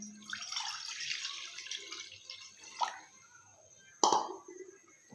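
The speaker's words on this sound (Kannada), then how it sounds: "ನೀರು ಹಾಕ್ಕೊಳ್ಳೋಣ" Water is poured into a pot or kadai set on a gas stove for steaming modak, heard as soft, close splashing and trickling with a few distinct drips and a sharper plop near the end.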